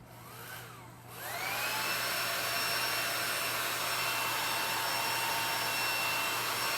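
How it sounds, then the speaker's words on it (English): A handheld blow dryer set to high heat, used to melt crayon onto paper, runs with a steady close whooshing roar that swells up after a brief dip near the start and then holds constant throughout. "Now you'll take your blow dryer"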